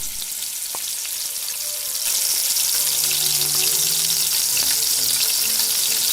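A beaten egg mixture with chopped massal hits a hot pan in a Korean-style dish and sizzles steadily nearby. The sizzle swells louder after a couple of seconds into a constant hiss.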